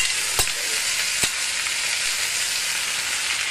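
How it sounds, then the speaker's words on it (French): A suckling veal chop fries in butter in a pan, giving a steady, loud sizzle with a couple of sharp clicks or spatters near the start. "butter is added in order to baste the chop partway through cooking"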